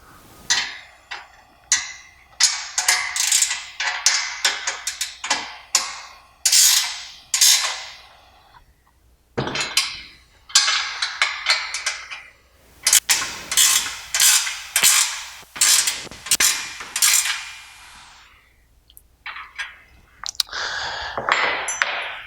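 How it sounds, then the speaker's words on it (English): Nine-sixteenths wrenches tighten bolts during a kit assembly, making close, repeated bursts of ratcheting clicks and creaks with short pauses between strokes and no talk. "9/16 wrenches are used to tighten these bolts."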